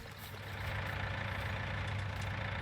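A tractor engine idles in Farming Simulator 19, a steady low rumble that holds constant and fairly loud throughout, with no talk over it.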